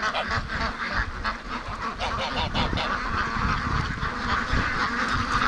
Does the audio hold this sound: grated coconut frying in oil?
no